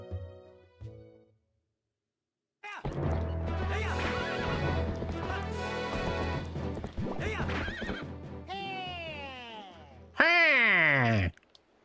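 A horse in the video game Twilight Princess gallops with rapid, loud clip-clopping hooves and gives shrill, rising whinnies near the end, preceded by brief sparse sounds and a silence.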